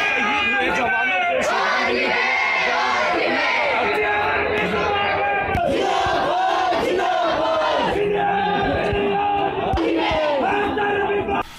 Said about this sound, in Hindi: भारत माता के जयकारों के साथ डीसी ऑफिस से शुरू हुई ये यात्रा पाकिस्तान मुर्दाबाद के नारों के साथ लोअर बाजार होती हुई माल रोड से रिज पहुंची